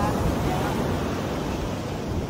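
Ocean waves along a beach, a steady wash of surf with wind rumble, moderately loud and continuous without distinct breaking pulses.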